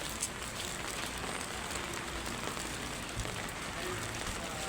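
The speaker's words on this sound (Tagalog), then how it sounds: "Umuulan mga guys." Steady rain falling on surfaces outdoors, a dense, even hiss with scattered drip ticks throughout, continuous and moderately loud.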